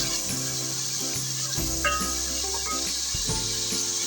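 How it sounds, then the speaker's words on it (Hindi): Tomatoes, garlic and ginger frying in a pan for a potato and cabbage sabzi, giving a steady, close, continuous sizzle and hiss with a few small pops throughout, with no talking. "थोड़ा सा हम टमाटर और लहसुन अदरक को फ्राई करेंगे।"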